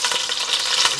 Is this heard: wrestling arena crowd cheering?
no